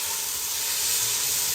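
Garlic and onions sizzle in a pan over high heat, giving a steady, bright hiss that holds at an even level with no pauses and no voices.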